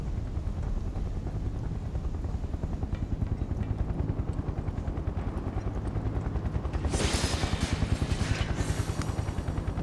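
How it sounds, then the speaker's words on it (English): A helicopter in the video game Final Fantasy VII Remake thrums with a steady rotor beat throughout, loud and close, with a burst of brighter clattering noise near the end. "I think this is where the heli's gonna start shooting"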